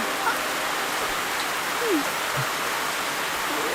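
Steady rain falling outdoors, an even, dense hiss throughout with faint scattered sounds in the background.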